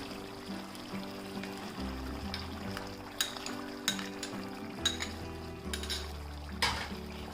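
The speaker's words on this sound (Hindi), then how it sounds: "इस पेस्ट के साथ भी हम 2 से 3 मिनट अच्छे से मिलाकर पका लेते हैं" Chicken korma paste is stirred and cooked in a pan, with a soft steady sizzle beneath repeated clinks and scrapes of a spoon against the pot, and music playing in the background.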